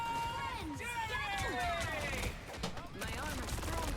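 Gunfire and ability effects in the video game Marvel Rivals, with rapid shots and sweeping synthetic tones mixed with bursts of chaotic combat noise at moderate level.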